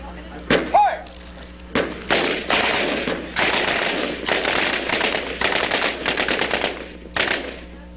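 Bolt-action rifles fire at a shooting range in a rapid, irregular volley of about a dozen loud, close cracks, several overlapping, each trailing into a booming echo.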